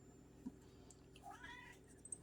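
A cat gives a short, rising meow against a quiet room with a low background hum, followed by a couple of faint soft sounds.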